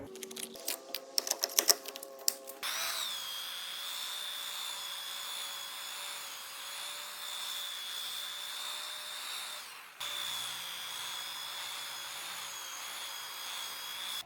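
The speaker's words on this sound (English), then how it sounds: "which is this wire wheel" A wire wheel brush runs steadily against wood boards, texturing the grain with a continuous high-pitched whirring scrape after a few sharp clattering starts, close and loud, with a brief dip near the end.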